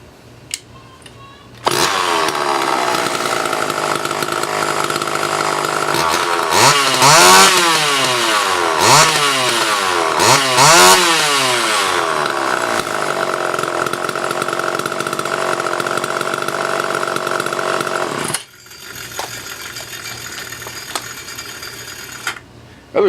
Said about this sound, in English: We'll fire it up real quick.